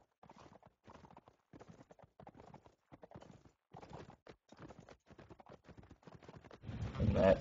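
A horse's hooves clop in uneven bursts during a game match, light and fairly faint against quiet gaps, ending in a louder rush of noise.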